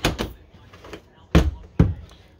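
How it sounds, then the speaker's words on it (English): Apartment door being closed in a house, with a couple of sharp, close bangs as the door meets its frame, each followed by a short fading knock, between quieter handling sounds. "So, let's close the door."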